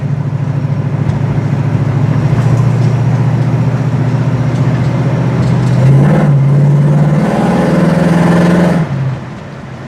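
A 1965 Ford Mustang rumbles along on a test drive, its engine droning loudly and steadily from inside the car, then rising briefly in pitch before easing off near the end.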